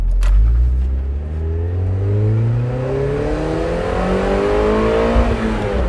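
A car engine revs up and holds, its rising and falling engine note loud and close with a throaty low rumble, heard alone without any talking.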